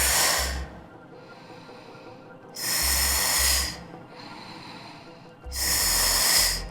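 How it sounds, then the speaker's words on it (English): Three strong, hissing exhalations during a Pilates mat core exercise, each lasting about a second, with quieter, softer breaths drawn in the gaps between them. "Breathe out."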